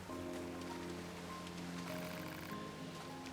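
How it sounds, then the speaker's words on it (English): Heavy torrential rain in the Nier Automata video game, a steady dense hiss that fills the whole clip at an even level, with a low music-like hum underneath. "That's a torrential downpour."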